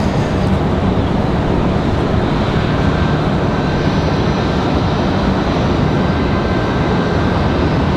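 An Alaska Airlines airliner at Raleigh-Durham International Airport sends out a loud, steady broadband jet engine roar that holds constant throughout, with no voices.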